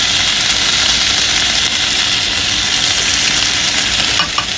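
Ground coriander and cumin paste, with ginger paste, fries in a hot pan for a rohu fish curry, a loud, steady sizzle with crackling spits running throughout and a few brief clinks near the end.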